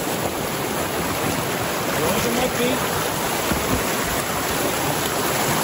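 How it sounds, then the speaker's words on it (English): A forceful glacial stream rushes down a steep grade in a loud, steady roar up close, with a few words spoken over the flow. "Yeah, the force of this water is unexpected."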